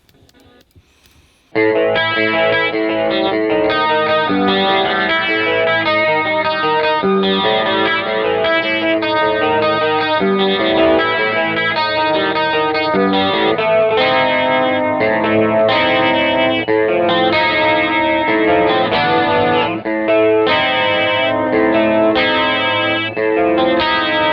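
Electric guitar through an MXR Rockman X100 preamp pedal, with a processed, chorused and slightly distorted tone, plays a busy, continuous riff after a brief quiet start, loud and steady throughout.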